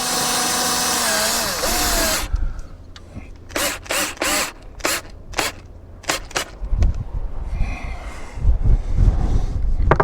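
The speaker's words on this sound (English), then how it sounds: "Probably should drill a pilot hole," A small Milwaukee drill bores into wood without a pilot hole: a long steady run first, then a series of short, loud trigger bursts with brief gaps, each followed by bumps and handling noises.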